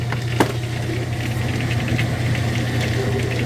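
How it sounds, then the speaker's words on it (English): A washing machine fitted with a newly replaced motor runs through its wash cycle, close to the spin cycle, giving a steady low hum with a faint rumble and one brief click near the start. "So far it is running through, I think we're about to hit the spin cycle here"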